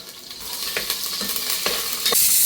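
Curry leaves and green chillies drop into hot oil for bagara rice, bursting into loud crackling sizzles with sharp spattering pops that swell toward the end.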